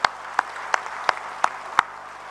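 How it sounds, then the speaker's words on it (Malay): An UMNO party assembly audience claps in slow, evenly spaced unison, six sharp, distinct beats rather than a continuous roar, each one crisp and fairly loud over a quiet hall background. "kita berikan tepukan bergemuruh"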